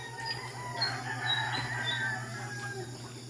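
Hens cluck and chirp softly in a backyard flock, a few brief calls over faint insect buzz and a low steady hum, with no talking.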